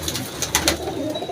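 Pigeons coo nearby, soft throaty calls repeating several times over a steady background hiss.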